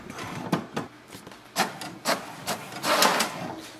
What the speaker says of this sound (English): So press the information button once and it will print the password.